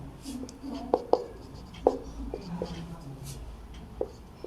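A pen scratches and taps on paper while a math function is written out, faint and close, with a few sharper strokes and quiet murmuring in the background.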